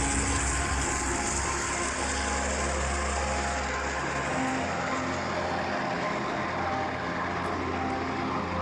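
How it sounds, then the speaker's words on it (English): Loud, steady roar of a large flying boat's aircraft engines drones throughout, a dense, unbroken rumble with the low end easing slightly midway. "The largest airworthy flying boat in the world with a crazy water drop."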